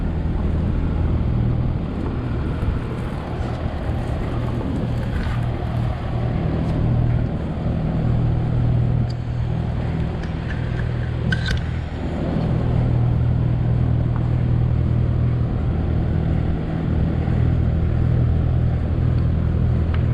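A 2007 or 2017 Kawasaki Vulcan 900 motorcycle idling nearby with a stuck idle, a loud, steady low engine rumble that holds throughout with slight swells and a few faint clicks, no talk.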